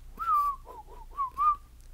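A lone person whistles a short melodic phrase of a tune, clear and fairly close, with no talking.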